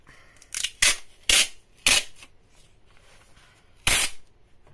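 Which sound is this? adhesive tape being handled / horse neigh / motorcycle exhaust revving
adhesive tape being handled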